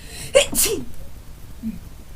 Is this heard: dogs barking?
no